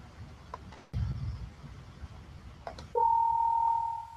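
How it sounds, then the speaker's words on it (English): A single steady electronic ring tone sounds clearly for about a second after a few soft clicks and low background rumble. "Playing the test sound, which is a phone ringing."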